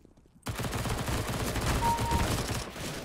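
Gunfire in CS:GO bursts in abruptly after a brief quiet moment, then holds as dense, continuous shooting that sounds like a sustained volley, fairly loud and close.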